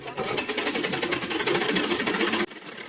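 A sewing machine stitches fabric in a fast, steady, continuous whirring run that cuts off abruptly near the end, loud and close with no talking.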